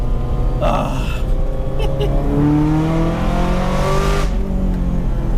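A Ferrari fitted with a straight-pipe exhaust drives close by, its engine note rising and falling through gears in a loud, raspy sweep, with a voice speaking briefly over it.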